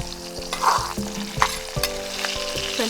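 Potato cakes stir-fried in a wok with cured pork, garlic and dried chilies: continuous oil sizzle with repeated metallic spatula scrapes and clinks, close up and without voices.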